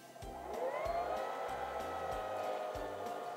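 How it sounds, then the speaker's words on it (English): A Singer Simple 3337 sewing machine winds a bobbin with a steady close motor whine that rises in pitch, overlaid by a regular thumping beat about every half second. "And now we can finish winding the bobbin."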